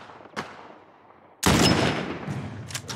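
Sniper rifle fire in The Last of Us remake on PS5, Grounded mode: a faint early crack, then a sudden loud blast at about 1.5 seconds that rings out and decays, followed by a few sharper distant reports.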